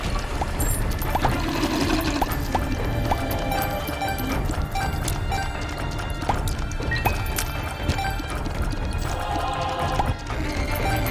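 A toilet-style flush effect from the video game The Binding of Isaac: Repentance: a rushing, watery pour with splashy crashes, loud and continuous over busy game sounds for about eleven seconds.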